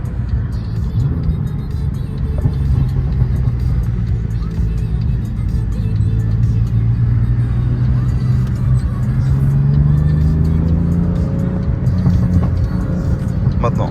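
On a race circuit, a car engine drones loudly and accelerates, its pitch climbing steadily over the second half of the clip while someone speaks over it at times.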